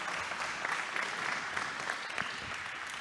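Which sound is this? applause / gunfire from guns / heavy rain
applause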